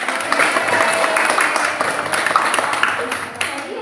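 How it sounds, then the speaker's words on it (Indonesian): A class of students applauds during an Arabic-language lesson at an Islamic school, a dense, steady patter of many hands clapping at close range, with talk mixed in. "Tepuk tangan."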